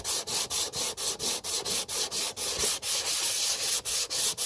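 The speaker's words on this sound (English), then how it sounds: "I just got a block of wood here and pulling that sandpaper over it" Sandpaper wrapped on a wood block is rubbed by hand over the primed front end of an '88 Camaro, a loud close rasping in quick regular back-and-forth strokes, about four per second, with no talking.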